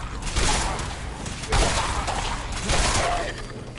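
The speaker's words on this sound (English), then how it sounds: "Being shot at." Gunfire in the game Wasteland 3: a few heavy, crashing shot bursts roughly a second apart, loud and close, over a rumbling backdrop.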